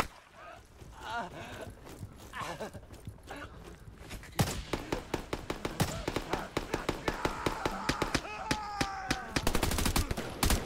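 Rapid video game gunfire from teammates, dense automatic bursts and sharp shots growing louder and more frequent in the second half, with a voice talking faintly underneath early on.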